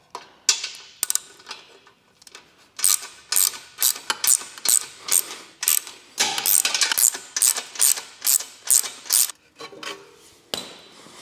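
A ratchet wrench backs out the downpipe-to-O2-housing bolts on a Mitsubishi Lancer Evolution 8 under restoration, giving rapid bursts of clicking pawl ratchets repeated close to the mic, separated by short pauses, with no talk.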